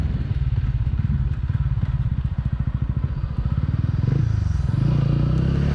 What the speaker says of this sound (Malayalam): ഇതിൻ്റെ ആ ഒരു എക്സോസ് നോട്ടെല്ലാം തന്നെ വളരെ നല്ല ഒരു സൗണ്ട്